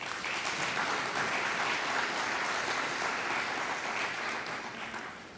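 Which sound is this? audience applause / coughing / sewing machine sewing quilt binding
audience applause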